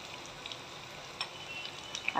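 Crushed garlic frying in a pan for a Maharashtrian potato dish, giving a faint, soft continuous sizzle with a few small pops toward the end.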